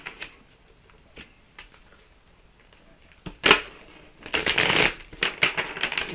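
Quiet riffling of a deck of cards, a few soft ticks at first, then a louder flurry of shuffling and bridging near the end.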